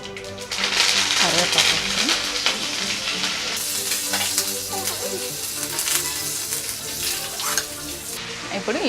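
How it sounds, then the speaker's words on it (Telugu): Whole tempering spices hit hot oil in a pan for a Guntur-style gongura chutney, giving a loud continuous sizzle and crackle with the scrape of stirring, while someone talks over it. "ఆయిల్ వేడయ్యాక పోపు దినుసులన్నీ వేసుకొని"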